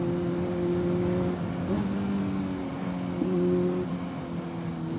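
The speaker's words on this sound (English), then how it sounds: "Just enjoy the ride and learn from the engine braking." Kawasaki Z900 motorcycle engine braking on a city ride in Bangalore, a steady close engine drone with shifting tones as revs fall and pick up, continuous throughout.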